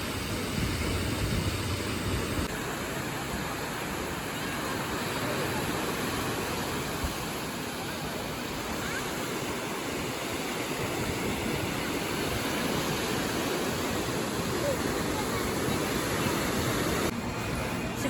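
Steady broadband roar of sea waves along the Tuscan coast, heard from a seaside spot facing the water, a continuous wash of surf with no distinct breaks and no voices.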